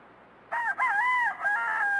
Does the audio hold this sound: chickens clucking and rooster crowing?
yes